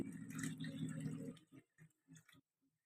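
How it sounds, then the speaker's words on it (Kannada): Water splashes and pours briefly into a pot of boiling fish curry, followed by a few soft drips and squishy bubbling sounds. "ಇದಕ್ಕೆ ನಾನು ಇವಾಗ ನೀರು ಆ್ಯಡ್ ಮಾಡ್ತಿದ್ದೀನಿ"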